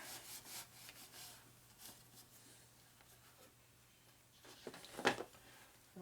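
A rag soaked in nitro solvent rubs over the oil tank of a Harley 650 single XL Sportster, giving faint, close rubbing and wiping strokes, with one sharper scuff near the end.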